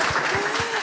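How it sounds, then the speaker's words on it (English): Short burst of audience applause for a sports champion and coach at a talk on gendered health in sport, broad clapping noise with a faint tone running underneath. "Can we have a round of applause for that, please?"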